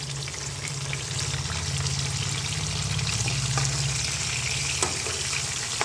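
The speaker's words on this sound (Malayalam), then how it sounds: "മീൻ ഇവിടെ ഒരു സൈഡ് എന്തായാലും വെന്തിട്ടുണ്ടെന്ന് തോന്നുന്നു നമുക്ക് പതുക്കെ ഇതൊന്ന് മറിച്ചിട്ട് കൊടുക്കാം" Fish pieces fry in oil with a soft, steady sizzle and bubbling at a fairly low level over a faint background hum. A few light clicks come as the pieces are turned.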